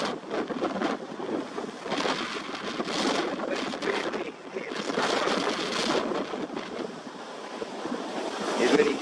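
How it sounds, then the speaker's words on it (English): Ocean waves from a 3-5ft swell at 9-second intervals shoal near the shore in a calm area, a continuous rushing wash with rising and falling surges, wind noise on the microphone and no talk. "Actually see the effect of the shoaling event in the waves"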